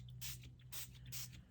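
Short hissing bursts of black shimmer spray being misted during a scrapbooking craft session, three quick close sprays separated by brief pauses, over a low steady hum.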